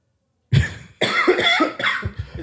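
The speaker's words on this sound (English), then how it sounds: "It's really hard not to cough." Coughing from a man who has swallowed water the wrong way, heard up close as a series of harsh, repeated bursts after a short silence, with no talk over it.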